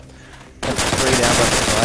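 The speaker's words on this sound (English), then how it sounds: "you can hear a lot of gunfire going off in the background as Decepticons goes to the plant" Gunfire during a Call of Duty 4 match on an airfield map erupts suddenly after a quieter moment into loud, dense bursts of rapid shots under a commentator's voice.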